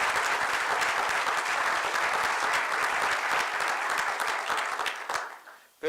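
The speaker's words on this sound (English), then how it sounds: "stand up and just give him a round of applause." Audience applause at an anniversary celebration event, a thick sustained crowd of clapping that carries steadily for several seconds before tapering off sharply near the end.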